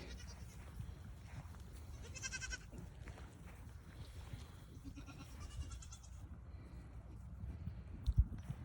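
Goats bleat in a field where lots of young kids are kept, several short bleats sounding at moderate distance over faint outdoor background, with a brief thump near the end.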